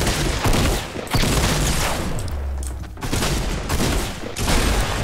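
Fortnite Battle Royale Season 4 gunfire rattles in loud, close bursts of rapid shots and booms with short gaps between them, and no talking.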